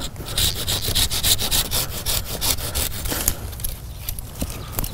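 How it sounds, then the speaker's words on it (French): A Japanese-toothed pruning saw cuts through a hard branch of a butterfly bush, giving steady rasping back-and-forth strokes, close and loud, with no talk. "Je vais donc utiliser une scie de jardinier, une scie à denture japonaise."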